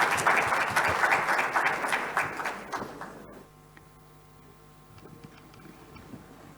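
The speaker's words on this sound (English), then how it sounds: "A round of applause for them, please." Audience at a conference panel on Africa's infrastructure financing gives a warm round of applause, dense clapping for about three seconds that then fades to a quiet room with a few scattered claps.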